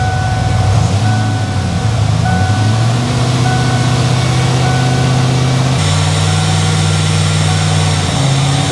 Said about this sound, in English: I'm gonna rev it up a little bit so it goes through like second.